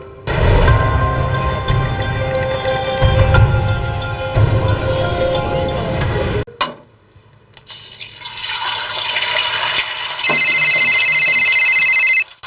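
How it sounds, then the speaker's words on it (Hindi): An electronic phone ringtone chimes in a steady repeating pattern after a short pause, following a stretch of loud music. "देखना तेरा फोन बज रहा है।"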